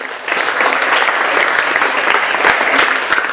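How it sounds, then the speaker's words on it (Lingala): Steady crowd applause at a church service, dense clapping from many hands sustained throughout, loud and close with no pauses. "Yes, acclamons Jésus-Christ de Nazareth."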